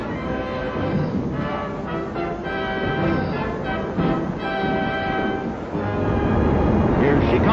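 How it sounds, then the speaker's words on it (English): The Yankee Clipper passenger train rumbles steadily into the upper level of an underground station, a continuous low roar with clanks, while voices murmur over the din. "Here she comes, the Yankee Clipper. It's coming on the upper level."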